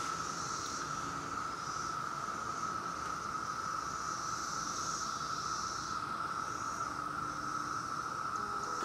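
Cicadas keep up a steady, continuous high buzz with slowly swelling pulses, sitting under a constant outdoor background hiss.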